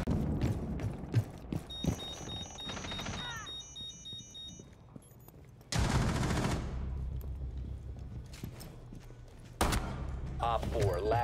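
Cannon and chain shot fire in a Rainbow Six Siege match, heard as loud bursts of rapid gunfire broken by quieter stretches, with several players talking over the action.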